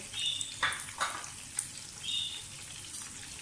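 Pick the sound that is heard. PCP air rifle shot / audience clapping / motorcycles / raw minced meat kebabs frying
raw minced meat kebabs frying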